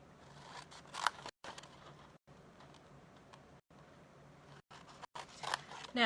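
Scissors snipping through the bottom flaps of a cardboard box, a few close, crisp cuts spread across the moment with faint room noise between them.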